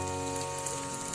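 Lentil and prawn fritters frying in hot oil, a dense continuous sizzle and crackle, close and steady throughout with no voices.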